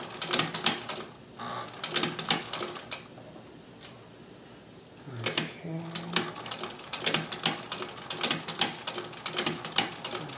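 A Singer sewing machine with a hemstitcher attachment stitches in rapid mechanical bursts, its clatter pausing briefly partway through before starting up again, all fairly close and loud.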